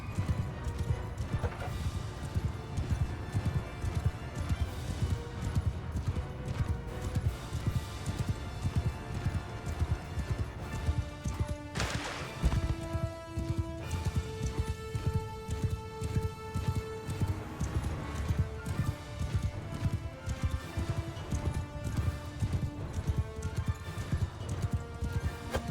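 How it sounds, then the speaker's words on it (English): A horse galloping across the battlefield in Mount & Blade II Bannerlord, with steady rapid hoofbeats over a droning musical score and a brief whinny partway through. "All right, horse. Full speed ahead."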